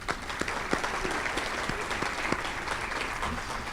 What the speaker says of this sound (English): we'll give him applause as well